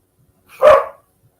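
A single dog gives one short, sharp bark, close and loud, standing alone against silence.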